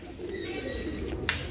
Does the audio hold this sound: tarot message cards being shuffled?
no